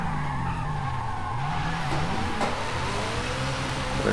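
Tires squeal and skid continuously as a car spins donuts while drifting in Forza Horizon, the screech wavering over a steady engine drone throughout.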